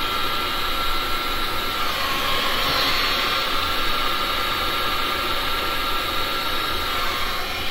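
An air blower pushes a steady, loud whooshing stream across a resin painting made with oil paints, holding an even, unbroken roar from start to finish with no talk.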